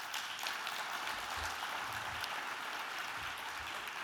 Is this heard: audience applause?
yes